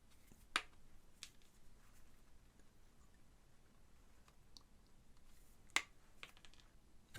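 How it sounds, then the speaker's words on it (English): Snips from flush-cutting capacitor legs after soldering on a Delta PSU/inverter board from an Acer AL1916W LCD monitor, heard as a few sharp, isolated clicks spaced seconds apart over a quiet background. "once you've got your caps soldered in place, go around and cut off the legs"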